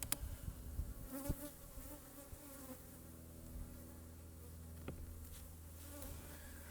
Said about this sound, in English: Just bees